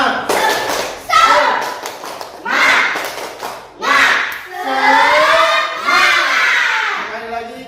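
A sixth-grade class does a rhythmic spirit clap, with bursts of group clapping in a patterned beat mixed with children's chanted voices, loud and close in a classroom.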